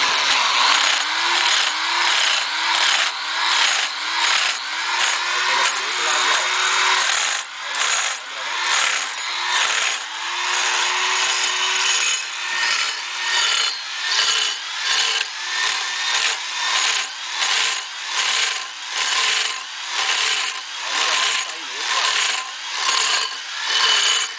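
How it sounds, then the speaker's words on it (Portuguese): Ordinary hole saw biting into a 1.5-inch steel tube with 2 mm walls, lubricated with regular motor oil, loud rhythmic grinding strokes repeating steadily and close, with no talk. "Essa serra copo dá pra fazer uns 100 furos"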